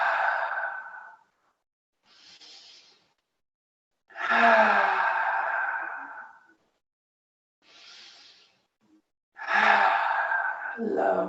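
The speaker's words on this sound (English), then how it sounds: "take those 3 breaths" Slow, deep breaths during a gentle yoga sequence for anxiety and stress, three long breathy inhale-exhale swells separated by quiet pauses, close and soft with no talking.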